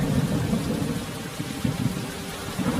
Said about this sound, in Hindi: बिना मौसम के इतनी भारी बारिश